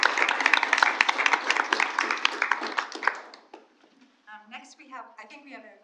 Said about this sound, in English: About another round of applause.